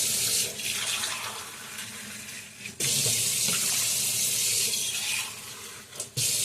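Water pouring steadily into a cooking pot of amaranth greens, a continuous rushing splash that stops briefly midway and resumes, close and fairly loud.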